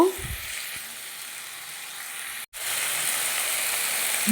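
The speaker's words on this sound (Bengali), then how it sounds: "কাঁচা লঙ্কা টমেটো কুচি এবার ভালো করে নেড়ে ছেড়ে দিয়ে দেব" Chopped tomatoes and green chilies frying in hot oil for chilli chicken, a steady loud sizzle with a brief stirring scrape at the start and a momentary cut midway before the hiss resumes.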